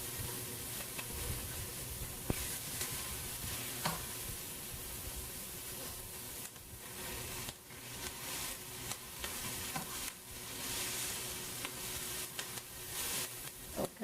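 Onions sautéing in a pan for a corn pone pie make a soft, continuous sizzle with faint crackles and occasional stirring scrapes, quiet and close, with no voices.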